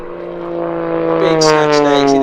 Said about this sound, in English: It's a fantastic aeroplane for these type of aerobatics.